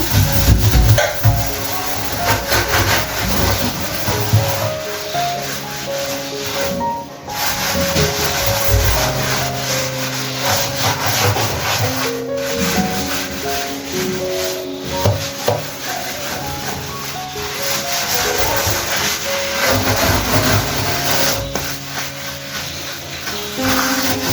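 Kitchen sinks and countertops being scrubbed clean, a long stretch of steady rough rubbing and brushing strokes in uneven rhythm, close and fairly loud with no talk.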